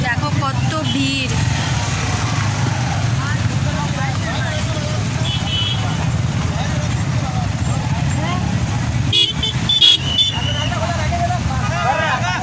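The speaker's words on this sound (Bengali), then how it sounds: "এখানে শুধু বাইকে বাইক।" A dense crowd of motorbikes at a busy gate makes a constant engine rumble and traffic din, with idling and revving machines close by and people chattering in the background. No distinct horn blasts stand out.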